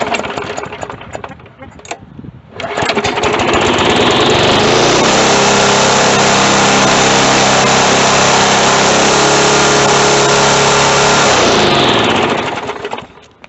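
A Poulan Pro mower's 148cc Briggs & Stratton 450 series engine at wide open throttle, held by an overly tight governor spring, roars loud and steady after a short lower stretch, then winds down near the end.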